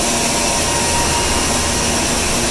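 Styrofoam bead molding machine with a hydraulic motor running inside a factory, giving a loud, steady broadband whir with a constant hum, with no pauses or voices throughout.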